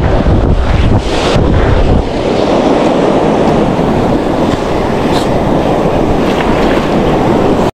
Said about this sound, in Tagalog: Maraming lakas ng alon, mga bari. Grabe yung amihan dito sa amin, mga bari.